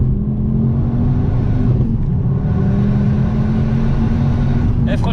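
A 305 hp Ford Focus RS weighing about 1.3 tonnes, wheels slipping under acceleration: a steady, loud engine drone with a rising tonal whine, with occasional voices heard inside the cabin.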